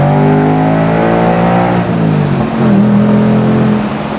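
A stock 2025 Ford Mustang GT convertible with active exhaust revs and pulls hard, its engine note rising steadily then dipping with a gear change before climbing again, loud and close with no talk over it.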